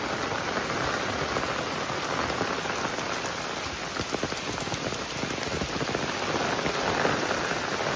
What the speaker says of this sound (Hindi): पूरा मूषल धारा वर्षा